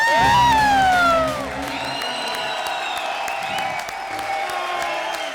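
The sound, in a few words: audience clapping and cheering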